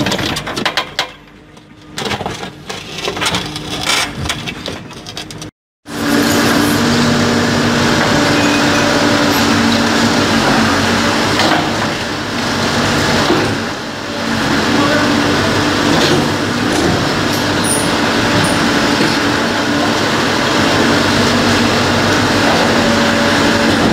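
A backhoe loader works nearby, its diesel engine droning loud and steady with rumbling, rattling mechanical noise across the whole stretch, after a brief cutout near the start.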